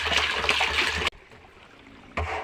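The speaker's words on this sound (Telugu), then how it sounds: "నేను గోమూత్రం వేస్తున్నాను." Cow urine is poured into a container while mixing jeevamrutham for natural farming, a steady liquid trickle and splash lasting about a second, then a pause before the pouring resumes.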